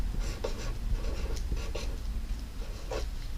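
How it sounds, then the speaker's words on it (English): Marker or pen scratching out bubble letters on a handmade Mother's Day card, a run of short, close strokes with brief pauses between them, steady and moderately quiet with no talking. "We're gonna write Mother's up here."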